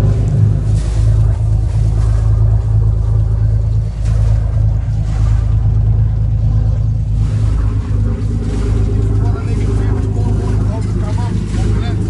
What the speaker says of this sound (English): the engine's started up, and they're about to take her off to have some work done to her